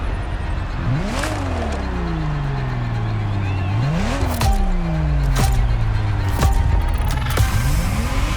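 Ferrari Testarossa engine in The Crew Motorfest racing game revs up and shifts repeatedly, rising pitch sweeps falling back after each gear change, loud and close with a steady roar throughout.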